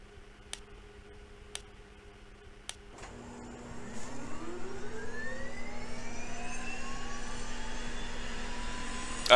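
An Aerobask Viperjet in the video game X-Plane 10 starts its jet engine. A few faint clicks come first, then a rising whine that builds steadily and grows louder toward the end.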